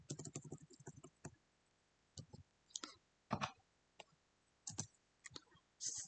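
Code is typed on a computer keyboard in irregular bursts of crisp, close key clicks with short pauses between them and no talking.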